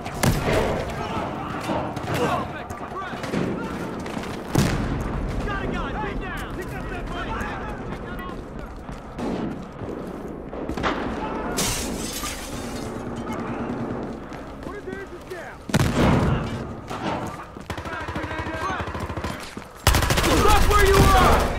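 Bursts of automatic gunfire in a first-person shooter game, MP5K submachine gun among them, rattling in rapid volleys with thuds, several louder sharp bursts near the end, while players talk excitedly over it.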